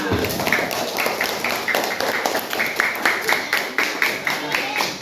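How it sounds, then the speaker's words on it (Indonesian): A class of schoolchildren claps together in a room, a steady run of close, overlapping hand claps lasting several seconds with a few voices mixed in. "Beri tepuk tangan semuanya."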